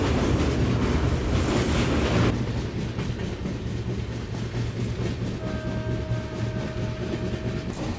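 Udhna Banaras Express crossing the double-line Ganga bridge, a loud steady rumble with rhythmic wheel clatter that softens slightly partway through, with a faint sustained tonal whine later on, heard from on board without talk.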